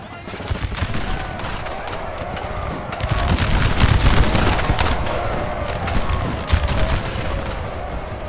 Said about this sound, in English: That's a lot of guns firing.